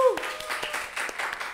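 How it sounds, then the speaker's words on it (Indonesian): A small audience at a halal food bazaar talk show gives a short burst of light, scattered clapping to welcome a guest. "tepuk tangan dulu dong"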